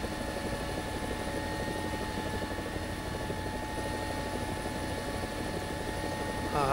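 A helicopter in the War Thunder video game flies with a constant, loud rotor and engine drone, steady from start to finish with no speech.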